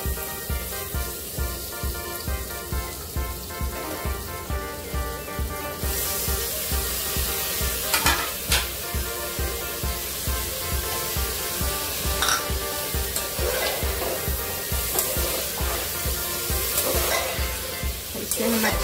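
Tomato, mushroom and green peas fry in masala with a constant close sizzle, while a spoon stirs in a regular rhythm of soft scrapes and the hiss grows brighter partway through.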